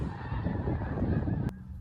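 A flock of geese honks overhead in a continuous chorus of overlapping calls, fairly faint and distant, ending in a sharp click and then quiet.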